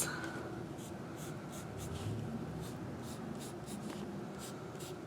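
A pencil sketches across paper with soft, continuous scratchy strokes, close and quiet, repeated in light back-and-forth motions with no talking.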